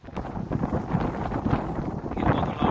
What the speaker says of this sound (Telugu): ఈ గాలి వచ్చిందంటే ఉంటుంది ఖచ్చితంగా